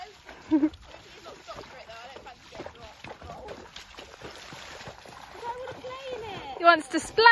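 A horse splashes through a water jump on a cross-country schooling course, with a sharp splash early on and louder splashing near the end, while people talk and react throughout.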